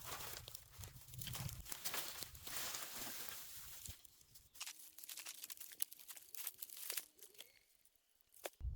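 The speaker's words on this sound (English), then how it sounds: "I cut them into pieces and press them into the soil along the edge." Old branches are cut and pressed into stream bank soil with close crunching, snapping and rustling that runs steadily throughout, over a faint low background rumble.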